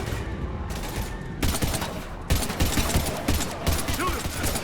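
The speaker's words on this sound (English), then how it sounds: "but we're taking heavy fire" Heavy gunfire in the video game Mass Effect 3 during a combat scene against Husks, with loud, dense bursts of rapid shots that continue almost without pause.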